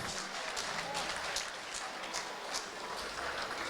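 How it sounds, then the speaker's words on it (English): Steady applause from a crowd at a Muay Thai fight in Birmingham after the final round, a continuous wash of clapping with no pauses, heard at some distance. "a big round of applause for both of these men"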